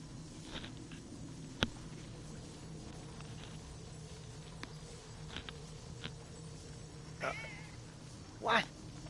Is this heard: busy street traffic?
no